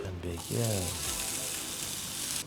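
Brussels sprouts hit hot oil in a pan and sear with a loud, steady hiss and crackle, close up, with someone speaking briefly at the start.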